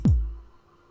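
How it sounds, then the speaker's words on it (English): A single punchy 909-based hardcore kick drum hit with a sharp click attack and a fast-falling pitched boom that decays within about half a second, heard alone. "any 909 based kick like this"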